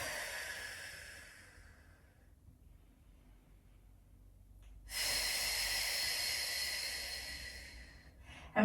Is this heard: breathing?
yes